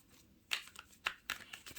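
Oversized tarot-style cards are shuffled by hand, giving soft papery riffles and slaps in a few short bursts, close but quiet, in a calm indoor room.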